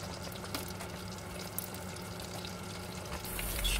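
Steady crackling sizzle of spring rolls frying in hot oil, close and continuous, with occasional pops and no talking.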